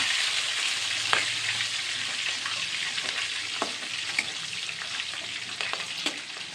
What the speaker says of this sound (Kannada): ಈಗ ಕಡಲೆಬೇಳೆ ಎಲ್ಲ ಬ್ರೌನ್ ಆಗಿದೆ. ಸೊ ಇದಕ್ಕೆ ನಾನಿವಾಗ ಮೆಣಸಿನ್ಕಾಯಿ, ಹೆಚ್ಚಿಟ್ಕೊಂಡಂಥ ಮೆಣಸಿನ್ಕಾಯಿ ಹಾಕ್ಕೊತಾ ಇದ್ದೀನಿ.